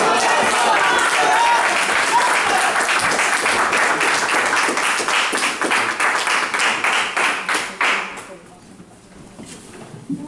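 An audience applauds a minister at a religious gathering, a dense, loud round of clapping that thins into scattered claps before fading out near the end.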